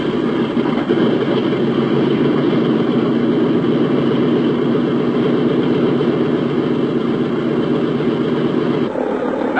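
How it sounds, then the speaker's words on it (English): Number 2 engine of a piston aircraft runs steadily at idle, a loud continuous droning rumble close by that holds an even pitch, with a brief shift near the end. "before we start number 2 engine, set your vacuum selector switch there to left."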